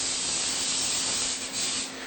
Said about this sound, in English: You got some vegetable oil. Spray the bottom of the pan